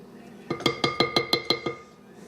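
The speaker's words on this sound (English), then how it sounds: "I'm going to stir it very slowly with this whisk attachment" A whisk attachment knocks against a bowl of chocolate pudding in a regular series of about seven bright clinks, with a quiet pause before and after.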